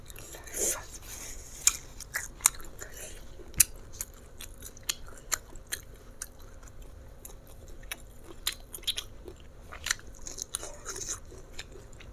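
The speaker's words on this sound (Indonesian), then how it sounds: "Nih, ngunyah begini tuh lama, teman-teman." Salted fish eaten with jengkol in a braised sauce, chewed close up with repeated crisp bites and crunches scattered through the stretch, loud sharp clicks over a low steady background.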